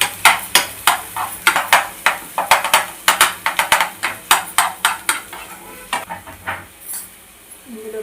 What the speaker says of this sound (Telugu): వెల్లుల్లి కచ్చా పుచ్చగా దంచేసి ఇందులో వేసుకోవాలి.